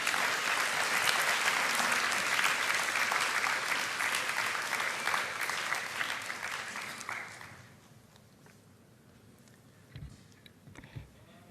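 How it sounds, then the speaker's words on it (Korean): Congregation applause at a young adults' Sunday church service as a pastor comes up to the stage, a loud sustained clatter of many hands that fades out after about seven seconds, followed by quiet room sounds and a few scattered thumps. "목사님 올라오실 때 환영의 박수를 쳐주시면 감사하겠습니다"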